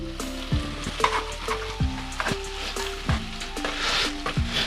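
Mint and coriander leaves sauté in a pan for a mutton liver and capsicum gravy, giving a steady close sizzle and frying hiss broken by several clattering stirs of the spatula.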